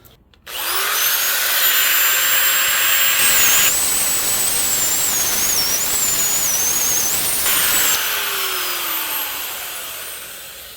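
A wet polisher with a 400 grit diamond pad works a granite stone, spinning up to a loud steady high whine that shifts in pitch as it presses the surface, then slowly winds down.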